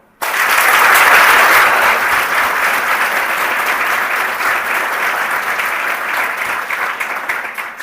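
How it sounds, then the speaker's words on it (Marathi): A crowd of girls at an academy gathering bursts into loud, sustained applause for their parents, dense clapping that holds steady for several seconds before tapering slightly. "प्रथमत तुम्ही इथं बसलात ना त्या आई वडिलांसाठी एकदा टाळ्या वाजवा"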